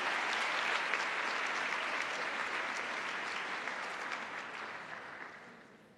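Steady applause from a seated audience at a Haitian public-health talk, a dense even patter of many hands that stays full and then slowly fades toward the end.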